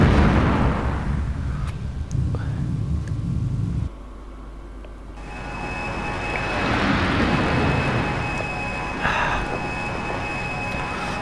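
Missile strike on an anti-aircraft gun in a Eurofighter EF2000 combat flight game, loud rumbling explosions and roaring jet noise, a sharp cut midway and then a sustained heavy roar with crackling blasts.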